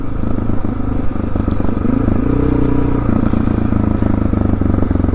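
A 2004 Honda XR650L single-cylinder dirt bike engine runs close by, a loud steady thumping idle with mechanical clatter and slight rises in revs, with no voices over it.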